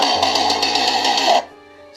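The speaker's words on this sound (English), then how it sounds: "Starting the chainsaw and just idling." A recorded chainsaw starting-and-idling effect plays from a speaker inside a haunt prop, giving a choppy, pulsing engine buzz with a rapid sputtering rhythm for over a second before it stops, leaving faint background hum.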